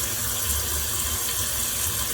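A toilet tank refills after a Fluidmaster universal fill-valve repair, giving a steady, continuous rush of running water up close with no change in level and no talking.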